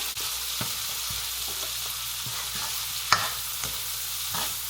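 Dried anchovies, green chili and onion sizzle steadily in a pan, with soft scraping stirs recurring throughout and one sharper clack of the utensil midway; moderately quiet and close, with no talk.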